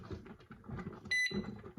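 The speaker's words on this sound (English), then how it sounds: "Your canner will start beeping" A bright electronic beep from a pressure canner sounds briefly in the middle of a voice talking, clear and close.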